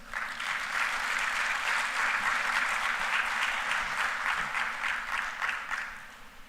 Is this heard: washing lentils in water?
no